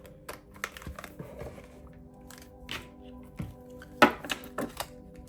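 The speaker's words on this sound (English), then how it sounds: "I wish the cards were a little smaller because I have tiny little hands and these are so hard to shuffle" A deck of oracle cards being shuffled by hand gives a run of soft, close slaps, flicks and taps at an irregular pace, fairly quiet and with no talking.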